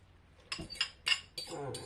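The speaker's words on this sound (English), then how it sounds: "now we add your brandy and your egg mix" Brandy and egg mix poured into cake batter in a mixing bowl for Christmas fairy cakes, heard as a few sharp clinks of utensils against the bowl and soft liquid sounds, close and fairly quiet.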